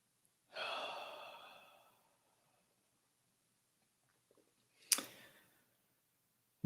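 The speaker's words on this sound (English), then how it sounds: "Another deep breath." A person takes a deep breath: a soft, drawn-out inhale near the microphone, followed by a quiet pause and a brief, sharper exhale, in a calm, quiet room.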